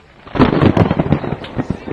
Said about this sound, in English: There was a flash of lightning and the sound of thunder.